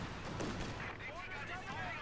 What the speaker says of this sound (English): We are indeed being fired upon